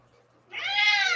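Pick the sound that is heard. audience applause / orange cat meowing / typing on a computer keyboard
orange cat meowing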